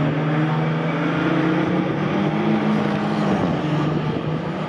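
Mazda MX-5 race cars, including a Mark III, pass at Silverstone during a 750 Motor Club enduro, several engines droning loudly and continuously with shifting pitch as they go by.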